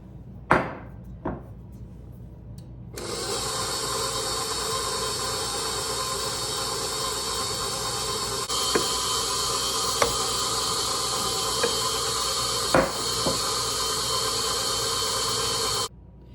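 A stand mixer works bread dough as King Arthur all-purpose flour is gradually added, a steady broadband whir running continuously for most of the stretch with a few brief knocks, after a couple of sharp clatters at the start.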